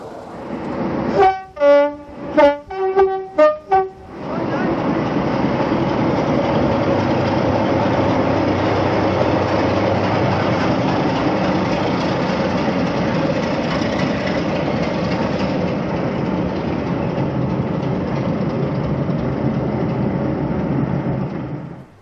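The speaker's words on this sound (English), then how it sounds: "our loco makes a spirited departure." A model BR Class 33 diesel locomotive departs, sounding several short horn blasts before its engine settles into a loud, steady diesel drone that carries on unbroken.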